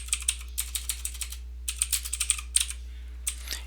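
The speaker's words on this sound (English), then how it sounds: "So I'll just type in here percent of total." Typing on a computer keyboard while entering a label into an Excel spreadsheet, quick close clicks in two short bursts with a pause between, no talking.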